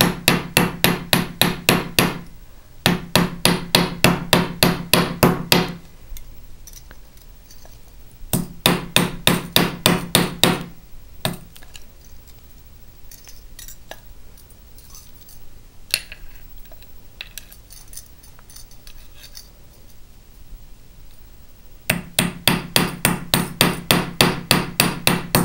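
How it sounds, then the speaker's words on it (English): Small hammer striking rivets on a metal disc bracelet clasp, delivering fast, even bursts of sharp metallic taps close up, with quieter pauses and a few scattered knocks between the rapid series. "now I'm going to go ahead and rivet the top side of the"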